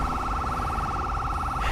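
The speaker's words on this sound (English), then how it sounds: "I wish this unit would turn the sirens off" Police car siren in the video game GTA 5 with the LSPDFR mod, a West Virginia State Police unit, a steady rapidly warbling wail sounding continuously over a low engine-like rumble.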